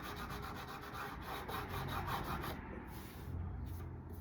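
Rasping and sanding strokes with a Z file and sandpaper on a workpiece during an SBH E Series standard setup, a steady close scraping rub that keeps going with slight rhythmic pulses and no talk.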